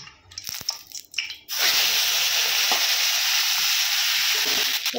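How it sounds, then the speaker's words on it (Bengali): Small cut pieces of fish head sizzling loudly in hot oil in a pan, a few clatters first, then a sudden steady hiss once they hit the oil and keep frying, close up with no talk. "মাছের মুড়ো আমি ছোট ছোট করে কেটে নিয়েছি, এগুলো আমি ভেজে নেব"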